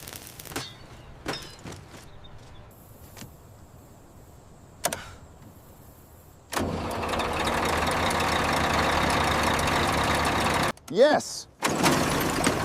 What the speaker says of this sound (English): I'm trying to start the engine using the ignition button and see if the bus finally comes back to life.